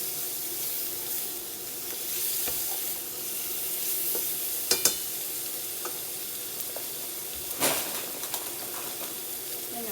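Sweet Italian sausage sizzles and fries steadily in a skillet, cooking fast, with a soft continuous crackle and a few sharp utensil clicks and scrapes near the middle and end.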